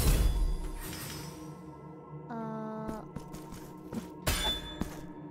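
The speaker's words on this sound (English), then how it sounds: "Bell." A bell rings in the video game Blasphemous 2, one clear sustained metallic tone that sits among clanks, thuds and other in-game sounds.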